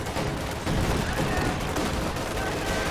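MG42 machine gun fire in a Company of Heroes 2 match. The firing is a dense, continuous clatter that fills the whole stretch, mixed with battlefield noise at a steady loud level.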